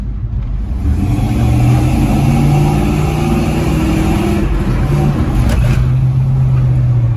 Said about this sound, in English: This truck sounds so good, especially without that fan.